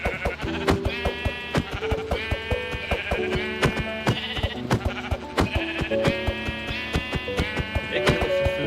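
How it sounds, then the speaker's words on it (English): Sheep in the Minecraft video game bleat repeatedly in quick succession, loud and close, over a busy background of game sounds and music. "I just want to see what happens when I kill this sheep."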